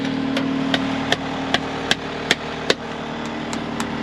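A hammer drives steel T-posts for a pasture fence, ringing metallic blows landing at an even pace about every 0.4 seconds, close and sharp over a low idling engine hum.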